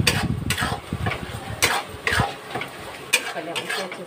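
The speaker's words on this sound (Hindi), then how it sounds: "पहले हम मसाले अच्छे से फ्राई करेंगे" Chilli powder, fresh-ground turmeric and coriander powder being stirred and fried in a pan for a soya chunk curry, with scraping spoon strokes and soft sizzling that come in uneven bursts, close and fairly quiet.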